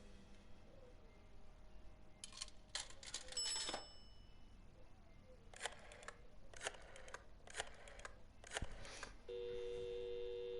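A telephone is dialed in the Blacksad: Under the Skin video game, with scattered quiet clicks and tone bursts followed by a steady ringing or line tone near the end.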